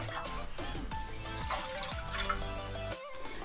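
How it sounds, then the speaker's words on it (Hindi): Water pours into a cooking pot to be boiled for vegetable daliya, a short close trickling and splashing that runs steadily before cutting off near the end. "तब तक हम एक बर्तन में पानी डाल के उबालेंगे"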